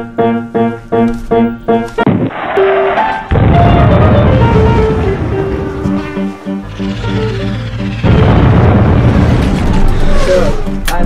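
Sci-fi film battle effects: a starship's weapons fire in rapid pulsing bursts, then heavy booming explosions roll in, loud and layered with rumbling debris and a rising whine.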